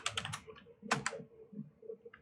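Keys clatter on a computer keyboard as a scene name is typed, a quick burst of close, crisp keystrokes, then two sharp clicks and a few softer, scattered taps with no voices.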